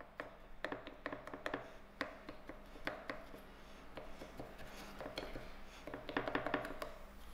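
A fork repeatedly pierces holes in a short crust dough cup, giving a series of light, close taps and pricks in an uneven rhythm over a soft background hiss.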